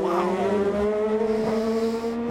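An IndyCar race car spins at extremely high speed on a street circuit at the Detroit Grand Prix, its engine a loud sustained whine with sliding pitch as the tires squeal, close and continuous, no voices.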